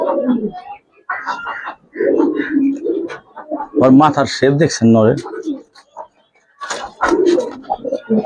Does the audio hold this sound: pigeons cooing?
yes